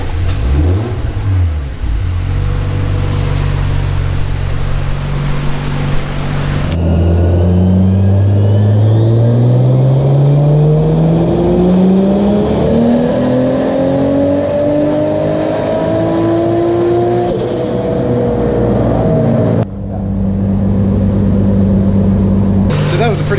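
A 2ZJ-engined Nissan S13 on a dyno, engine revving up through a long rising pull at part throttle, loud and close, then dropping back to idle near the end; voices talk over it.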